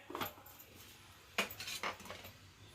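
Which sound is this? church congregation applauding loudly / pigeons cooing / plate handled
plate handled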